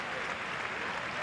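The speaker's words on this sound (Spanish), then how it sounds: "Aplaude el público del estadio Johan Cruyff." Stadium crowd at a women's football match applauds in a steady, dense wash of clapping, moderately distant, with no other sounds standing out.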